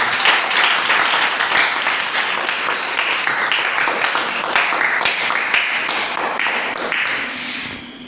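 A church congregation at a Friday night vigil service applauds and acclaims Jesus, a loud, continuous burst of many hands clapping with rapid irregular taps and thuds that gradually eases off at the close.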